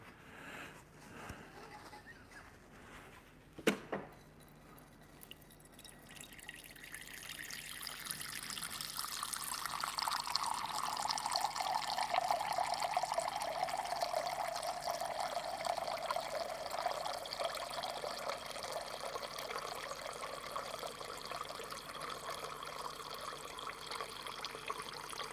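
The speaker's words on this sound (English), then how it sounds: "That's enough water." Water pours steadily into a vessel in a kitchen, a soft trickle that swells into a continuous stream and holds for many seconds after a brief clunk near the start.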